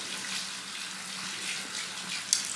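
Warm tap water runs steadily over a sponge being rinsed at a bathroom sink, a continuous hissing splash with a brief clatter near the end.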